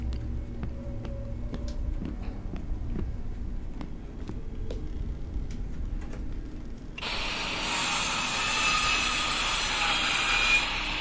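An angle grinder cuts into a door in a video game. Scattered ticks and clicks give way, about two-thirds through, to a loud, steady, harsh grinding hiss that runs to the end, with no talking.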